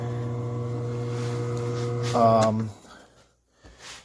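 A VEVOR commercial electric deli meat slicer with a carbon steel blade runs with a steady, fairly quiet motor hum as the blade turns, swelling briefly before cutting off, with faint sounds after.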